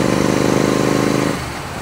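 A Royal Enfield Continental GT 650 motorcycle with a 650 cc engine runs close by in a loud, steady pulsing drone. The engine note drops off suddenly partway through.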